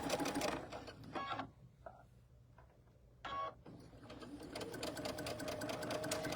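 A sewing machine stitches in short bursts, loud at first, pausing into near quiet, then starting up again and running steadily to the end.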